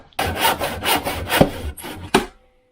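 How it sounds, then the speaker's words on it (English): A handsaw rasps through a veneered wooden cabinet in about six quick, close back-and-forth strokes, then stops. "I guess I could just use a handsaw."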